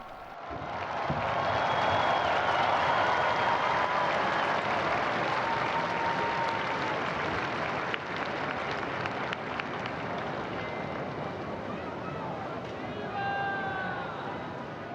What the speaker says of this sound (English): a warm round of applause as Pope Francis appears